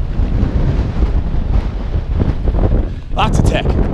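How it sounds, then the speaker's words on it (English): Strong wind buffets the microphone on a Caribbean singletrack mountain bike trail in Aruba, a loud continuous rumble with brief rattles near the end. "man, it's windy."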